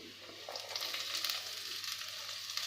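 Small onions dropped into hot oil with ginger and garlic for a spicy tuna fish curry, a close, steady sizzle with crackling bursts as they begin to fry.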